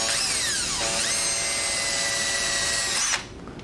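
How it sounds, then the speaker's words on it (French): A power drill bores a hole, its motor whining loud and close at a steady pitch with small speed shifts, then stopping abruptly near the end. "Vous pouvez prendre la perceuse"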